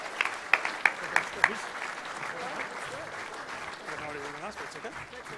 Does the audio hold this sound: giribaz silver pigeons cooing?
no